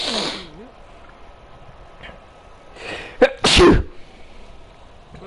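A person sneezes once, loud and close, preceded by a short sniffing intake, with brief talk earlier in the quiet room.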